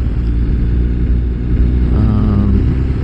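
A BMW R 1250 RS motorcycle with a boxer engine cruises along the road, a loud, steady low rumble with wind noise and a brief rise in engine pitch partway through.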